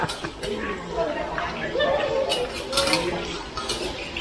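A metal wok clatters and scrapes steadily as it is swirled on a stove, with a crowd chattering in the background throughout.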